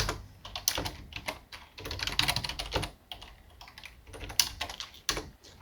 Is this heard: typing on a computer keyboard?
yes